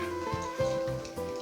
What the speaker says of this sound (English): So there, the lids are boiling.